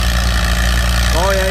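An antique tractor engine labors steadily at close range during a tractor pull, a constant low drone with a rising whine near the end.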